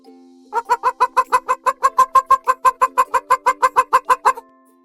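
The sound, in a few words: hen clucking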